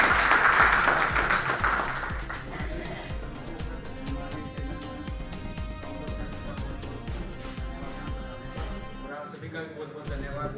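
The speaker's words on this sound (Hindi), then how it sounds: "आपका ताली बजा दें।" An audience at a municipal council farewell ceremony claps in sustained applause that is loud at first and then gradually thins out, with voices mixed in.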